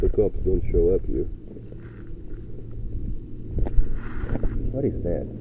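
A tractor engine in a natural park gives a steady low rumble in the background, partly masked by wind buffeting the microphone, while people talk over it.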